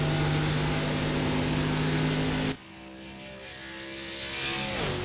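A race car engine in the iRacing simulator at Kentucky drones loudly and steadily, cuts off abruptly partway through, then returns quieter and builds as the throttle comes back up.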